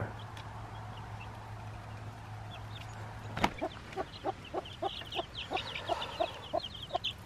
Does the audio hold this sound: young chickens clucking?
yes